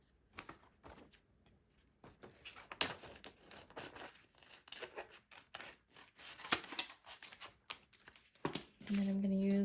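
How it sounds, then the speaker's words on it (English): Scissors snipping through a piece of vellum, a run of quick crisp crinkly cuts close up, quiet and irregular, with paper rustling and a short hum at the end. "cut off a little piece here."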